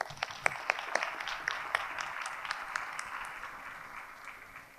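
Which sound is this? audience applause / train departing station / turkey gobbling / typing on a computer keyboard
audience applause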